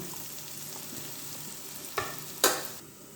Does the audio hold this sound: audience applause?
no